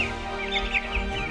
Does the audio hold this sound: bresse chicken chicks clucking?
yes